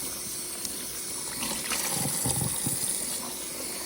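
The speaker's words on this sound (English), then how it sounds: "What I'm gonna do is I'm gonna run water over them." Tap water runs steadily over mushrooms and fills a bowl beneath them, a close, even gush with no voices.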